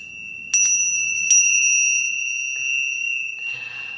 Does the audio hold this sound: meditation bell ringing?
yes